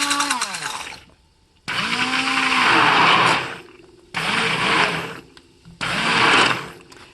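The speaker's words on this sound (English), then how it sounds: "And I'm going to blend this just a little bit, not too much, because I still want a little chunks of strawberries in the cake" A blender pulses a batch of strawberries in four separate bursts of whirring motor noise, each lasting a second or two with short silent gaps between, loud and close.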